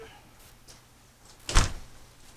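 A house front door is closed after a package delivery: quiet room noise, then one sharp thud of the door shutting about two-thirds of the way through, followed by a short decay.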